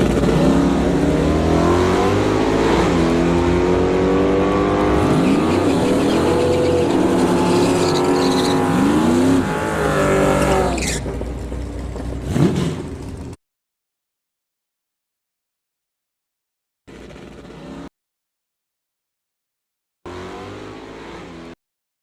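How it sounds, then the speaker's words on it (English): A 1984 Mazda RX-7 with a small block Chevrolet V8 roars down a drag strip, loud and close, revving hard through rising gear pulls for about twelve seconds before the sound cuts to silence, broken only by two brief bursts of distant noise. "84 Mazda RX-7 with a small block Chevrolet crammed underneath the hood."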